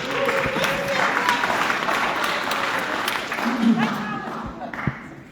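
Audience applause at a public workshop meeting on data centers: sustained clapping from a roomful of people fills the clip, with scattered voices and a few louder claps toward the end.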